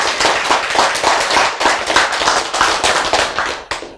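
An audience bursts into applause, dense overlapping claps holding loud and close for about four seconds before thinning out at the end.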